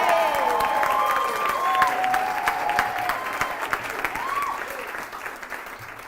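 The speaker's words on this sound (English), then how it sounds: "please give the warmest round of applause for a response from our bridegroom" Warm applause fills a wedding reception as the bridegroom is introduced for his speech, steady and fairly close, with a few whoops and voices woven through the clapping.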